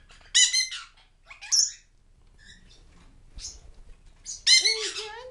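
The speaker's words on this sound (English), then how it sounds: "What are you doing, Tweety Bird?" A pet bird at home gives a few short, close, bright chirps and squawks in scattered bursts, separated by near-silence.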